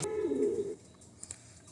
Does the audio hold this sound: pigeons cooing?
yes